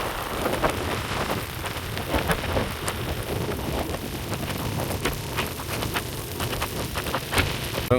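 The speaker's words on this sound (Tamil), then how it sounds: "ஸோ மழை கூடுது பாருங்க" Heavy rain pours steadily, a dense hiss of drops hammering the surface with no pauses, alone without any voices.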